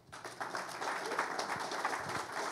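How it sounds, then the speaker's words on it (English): A burst of applause from an audience, dense clapping that holds steady for a couple of seconds. "He gets applause."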